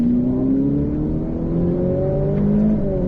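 A Ferrari F8 Tributo engine revs continuously with rising tonal pitch, a steady loud drone as the car accelerates hard on a race track.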